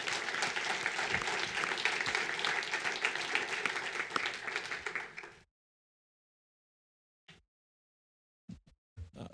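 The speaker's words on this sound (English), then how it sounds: "Let's give them a round of applause." An audience applauds Douglas County students at a school board meeting, with dense clapping for about five seconds before it cuts to silence, followed by a few brief sounds.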